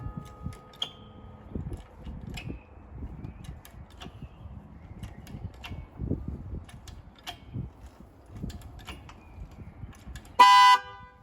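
An Alfa Romeo Giulia's immobilizer tilt alarm trips as the car is jacked up, a faint intermittent beeping over background clatter, then a loud short electronic burst near the end.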